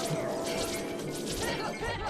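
Clay pots shattering in an Ocarina of Time randomizer, rapid repeated crashing breaks layered over a busy, dense game soundscape, close and steady throughout.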